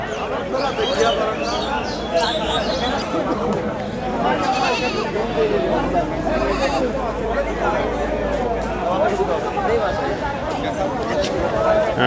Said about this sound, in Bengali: আমাদের সামনে এখানে বেশ কিছু ছাগল রয়েছে বাচ্চা সবই হলো বাচ্চা